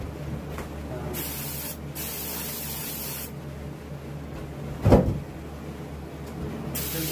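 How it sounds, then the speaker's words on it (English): An airbrush sprays base coat sealer onto a carved wood duck, with several hissing bursts of varying length separated by short pauses, close and steady, plus a brief bump or knock near the middle. "We got base coat sealer. Put a light coat of that on there."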